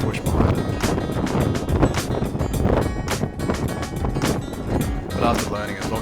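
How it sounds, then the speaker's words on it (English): Strong wind gusts buffet the microphone on an exposed mountain slope at Mt Bogong in the Australian backcountry during a ski tour, a loud continuous roar with surging bursts and no speech. "the wind had a bit of push behind it"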